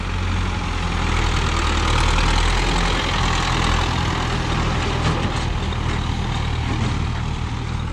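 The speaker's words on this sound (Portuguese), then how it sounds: "E lá vem o Ford 6600 soprando fumaça" A Ford 6600 tractor engine runs steadily near a forage wagon on a farm, a loud, continuous diesel rumble with a broad, even roar and no pauses.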